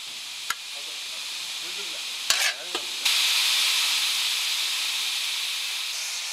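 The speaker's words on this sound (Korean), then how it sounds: "한 통 가득한 간장으로 간을 한 후 취사용 삽으로 파래를 묻혀야 한다." Seaweed for 2,000 servings being mixed with soy sauce in a large tub using a cooking shovel, heard as a steady wet hiss with a few sharp scraping knocks, fairly quiet with no talk.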